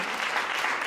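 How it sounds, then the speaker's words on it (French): An audience at a French-language talk on inclusive professional practices breaks into applause, a brief dense patter of many hands clapping at a steady moderate level. "On peut applaudir."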